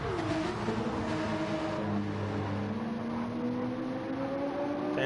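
A Porsche and a Toyota Supra race in a Gr3 racing game at Watkins Glen, their engines droning steadily with rising pitch as they accelerate, loud and continuous.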